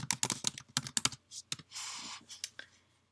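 A name is typed on a computer keyboard with quick bursts of crisp, close key clicks, a short pause, then a few more scattered keystrokes.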